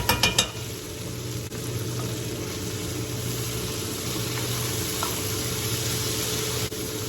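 Two cloves of chopped garlic sizzling in a pan on medium-high heat, a steady close frying hiss after a few clattering taps at the start.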